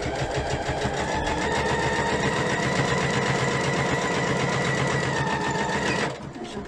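Sewing machine stitching a small fabric pouch, a fast, even mechanical whir with rapid needle chatter running steadily and close for about six seconds before stopping abruptly.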